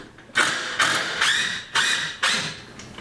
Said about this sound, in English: So when I unscrew this one